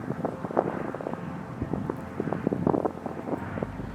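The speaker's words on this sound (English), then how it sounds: "Allowing this wind to clear away that old, unwanted, as well as negative energy." Wind blows outdoors and buffets the microphone in uneven gusts and rumbling puffs, fairly close and moderately loud for a few seconds.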